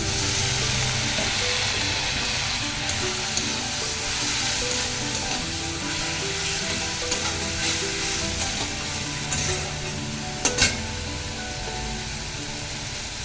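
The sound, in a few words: spice masala frying in a pan with water added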